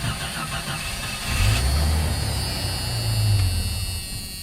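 A 1989 Jeep Cherokee engine, fitted with a newly painted exhaust, cranks and tries to start: a low mechanical churning comes in after a moment and grinds on steadily, close and loud, with no talking.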